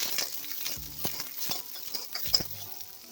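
Chopped onion goes into hot oil in a kadai with mustard seeds and urad dal, giving a close, crackling sizzle with spatters and two brief clanks of a spoon against the pan, with no voices.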